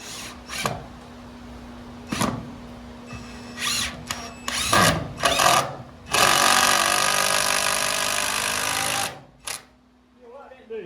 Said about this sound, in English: I'm gonna put some of these screws in here and see if that'll hold it